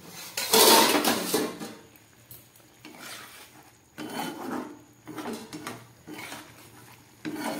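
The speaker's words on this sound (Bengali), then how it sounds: "এবার ঢাকাটা খুলছি" A lid is lifted off a cooking pot of boiling bora posto, made with potato and pea-lentil fritters, giving bright metallic clanks and scrapes, followed by quieter intermittent rattling and rubbing of cookware.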